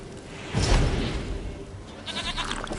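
Goat bleating in a video game: one drawn-out bleat rises over a low ambient hum, then fades into quieter game background sounds.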